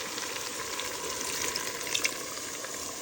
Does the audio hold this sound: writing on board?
no